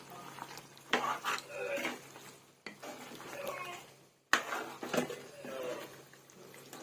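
Spoon stirring chili powder and coriander powder into Nellore-style chicken kurma in a pot, a few scraping, clattering bursts against the metal with short pauses between them, close and moderately loud.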